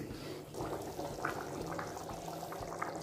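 A pot of black-eyed bean stew simmers on the stove, giving soft, continuous bubbling and faint liquid gurgles, quiet and steady with no voices.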